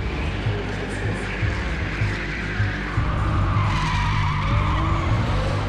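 Dunlop-tyred race car drifting and sliding on track, with a continuous loud tire squeal and skid over a roaring engine that stays steady and close throughout, with no voices.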